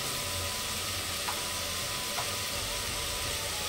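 Coriander powder and spices sizzle in a pan for pudina rice, a steady close frying hiss with a couple of faint clinks, no talk.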